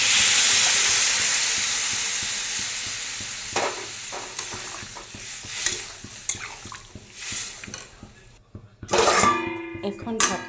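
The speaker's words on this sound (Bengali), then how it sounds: "আমি এখানে জল দিয়ে দেবো" Drumstick curry sizzles loudly in a pan, then the hiss fades as water goes in, followed by scattered clatters and stirring, with a sharp burst of steam and bubbling near the end.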